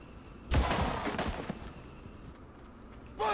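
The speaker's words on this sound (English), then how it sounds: "then just fire a pistol at him" A pistol shot fired in the turn-based tactics game XCOM 2: one sharp, loud report with a short ringing tail, followed by quieter game sounds.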